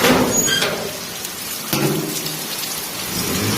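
Heavy monsoon rain pours steadily outside on an evening in the rainy season, a dense continuous hiss with a low rumble of distant thunder swelling partway through, no voices present.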